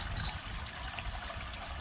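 A weak, steady trickle of water runs on its own, a thin dribbling flow from a tap blocked by a glass stuck inside, without any talking.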